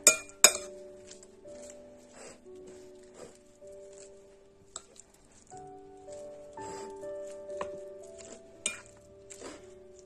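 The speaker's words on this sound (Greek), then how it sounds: "Και ήρθε η ώρα με ένα κουταλάκι να ανακατέψουμε την σαλάτα μας" A teaspoon stirring a cabbage and carrot salad in a bowl gives off scattered clinks and taps of metal on the dish, irregular and close, with soft rustling between the strikes.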